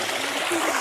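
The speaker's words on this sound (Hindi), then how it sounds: "इसके नीचे से भी काफ़ी वाटर मेल्ट होकर निकलता रहता है" Glacier meltwater stream running in Iceland, a steady close rush of flowing water with no breaks over a short moment.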